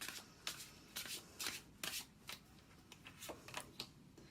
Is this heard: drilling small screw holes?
no